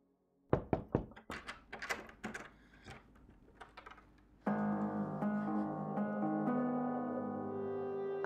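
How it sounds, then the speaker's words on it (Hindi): Knocking on a door in a Pakistani drama scene: a rapid series of hard, close knocks in uneven bursts, followed by a sustained musical score that swells and holds to the end. "रोही, रोही बेटा दरवाजा खोलो, दरवाजा खोलो मेरी जान"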